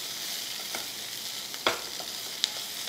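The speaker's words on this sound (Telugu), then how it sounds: "ఇది వేగింది కాబట్టి ఇప్పుడు ఆనియన్ వేసేస్తున్నాను" Onions cooking in a little butter in a pan give a steady, soft sizzle with a few brief stirring scrapes, close and moderately quiet, with no talking.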